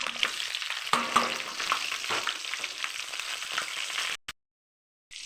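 Onions sizzling steadily in a hot pan for kara kulambu, with a few stirring clinks, before a brief cut to silence near the end.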